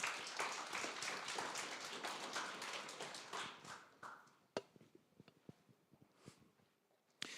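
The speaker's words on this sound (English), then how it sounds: "give him a big applause and good luck" At a hackathon's final pitches, a crowd applauds as the next speaker comes on stage. The clapping is fairly quiet and thins out after a few seconds into scattered single claps.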